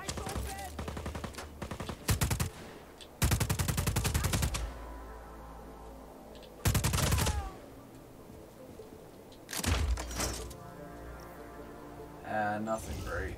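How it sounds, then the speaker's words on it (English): Gunfire in the video game Just Cause 4, with several loud bursts of rapid automatic shots separated by quieter stretches of steady game ambience, close and prominent. "Shooting at my bike."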